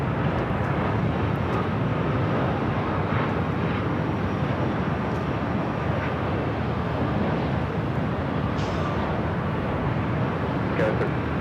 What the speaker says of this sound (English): Next up here on the north side, a United 757-300.